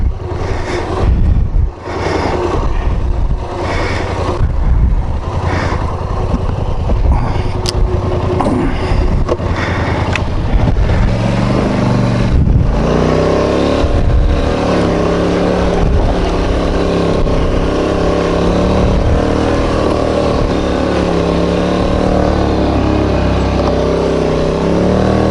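A quad ATV engine revs hard while dragging a big tree near Sawmill Lake, a loud, close, continuous drone whose pitch rises and falls as the throttle changes, with no voices.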